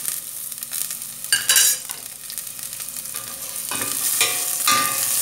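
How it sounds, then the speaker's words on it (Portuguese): Garlic frying with salt in a pan for a zucchini dish, a loud close sizzle with bursts of crackle and spatula scraping that swell and fade, no voices. "vamos deixar o alho dourar um pouquinho"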